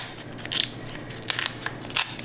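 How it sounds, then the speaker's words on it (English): Special food scissors snip through meat in a home kitchen, giving a few short, crisp crunching cuts close by. Each cut is brief and quiet over a faint background hum, with no talking. "this is how you take special scissors for food. And you're just going to go in and you're going to just cut."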